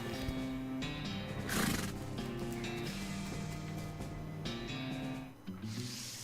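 A horse whinnies loudly amid a dense soundtrack from the video game West of Loathing, with clip-clopping hooves and rustling effects layered over steady background music.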